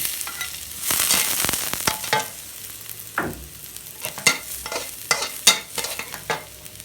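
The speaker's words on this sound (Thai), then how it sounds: "วันนี้ผัดผักเช่นเคย ลงกระเทียม" Vegetables and garlic stir-fry in a hot pan, a close crackling sizzle broken by repeated sharp scrapes and clanks of the spatula against the metal, no voices.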